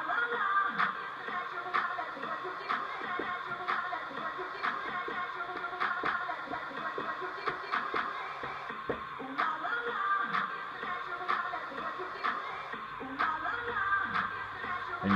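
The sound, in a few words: looped track sliced in DJ freeze mode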